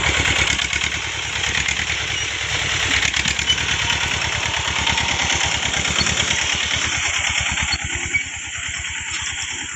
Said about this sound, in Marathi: ट्रॅक्टर काढला बाहेर।